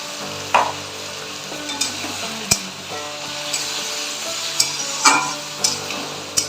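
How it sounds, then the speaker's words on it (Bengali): Green chili paste with ginger and tomatoes fries in a pan, a steady close sizzle broken by occasional sharp pops and scraping stirs. "এটা 5 মিনিট ভালো করে রান্না করে নেব, মানে কষিয়ে নেব"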